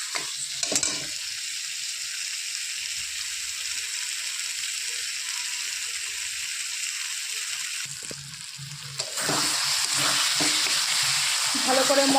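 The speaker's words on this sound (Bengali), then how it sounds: "ভালো করে মশলা আমি কষিয়ে নিয়েছি" Spice paste with tomato for boal fish curry sautéing in a pan, a steady close sizzle with occasional stirring scrapes that grows brighter and louder near the end.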